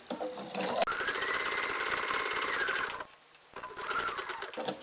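A home sewing machine labours over a bump of thick, layered fabric, whirring in close steady runs that briefly drop to near quiet and then start again.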